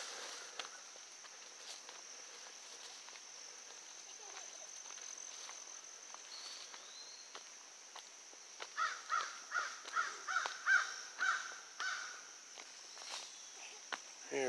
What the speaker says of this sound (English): big old crow up there.